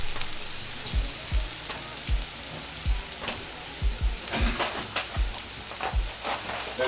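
Onions fry in pork drippings in a skillet, giving a steady low crackle under a series of soft, regular thumps and scrapes roughly once a second, close by, with no speech.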